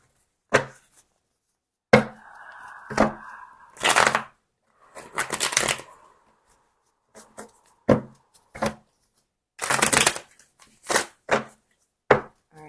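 Tarot cards being shuffled in short, crisp bursts of riffling and slapping, separated by quiet gaps, close and fairly loud, with a brief soft hum between some bursts.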